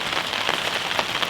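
Rain falls steadily on a cabin build site in Alaska, a dense, close patter of drops hitting surfaces with no voices present.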